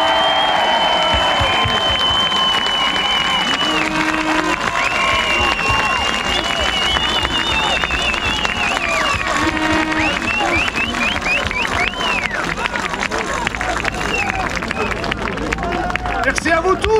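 A large outdoor crowd at a farmers' support rally by the Eiffel Tower in Paris claps and cheers continuously, dense applause and shouts filling the air while an amplified voice carries over the noise.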